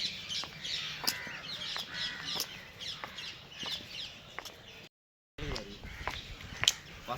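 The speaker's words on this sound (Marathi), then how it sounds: "एकदम शांत पक्षीचा आवाज येतो" Outdoors in the morning near Varsoli beach, crows caw repeatedly at close to mid distance while smaller birds chirp around them, with a brief silent gap near the end.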